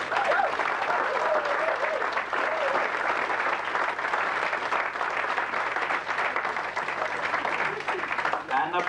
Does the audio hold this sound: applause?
yes